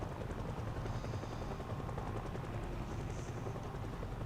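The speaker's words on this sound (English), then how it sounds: "Is that the helicopter going around in circles? Around me?" A helicopter circles overhead in the zombie-survival video game Project Zomboid, making a steady, muffled rotor thrum that stays fairly faint and distant throughout with no voices.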